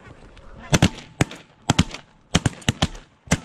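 Shotgun blasts ring out at geese during a duck and goose hunt, about a dozen sharp loud reports fired in quick irregular bursts, with goose honks faintly behind them.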